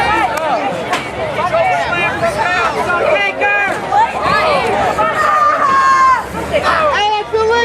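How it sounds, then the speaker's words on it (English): A lively crowd at a wrestling event murmurs and cheers in a dense, continuous babble, with voices rising and falling close around. "Listen to the crowd."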